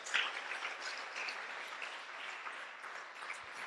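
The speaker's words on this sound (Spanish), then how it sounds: "Si le va a dar ese aplauso al Señor" A church congregation applauding together, a steady, fairly distant wash of clapping that holds evenly for a few seconds with no voices on top.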